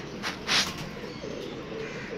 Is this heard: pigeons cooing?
yes